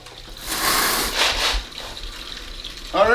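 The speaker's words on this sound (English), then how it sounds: "let's go ahead and turn the pump on, make sure we get good flow" A water pump on a homemade gold-prospecting highbanker by the James River, pushing a close gushing rush of flowing water that swells and eases over a few seconds.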